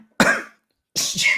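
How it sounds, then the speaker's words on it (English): Two close, loud coughs from a man in quick succession, the second slightly longer and rougher. "Stupid cough."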